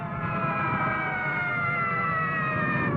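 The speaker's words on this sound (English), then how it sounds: "You hear those sirens? They're for you." Several emergency sirens from fire and police vehicles wail together in long sustained tones, steady and loud, with no pauses and no other sounds on top.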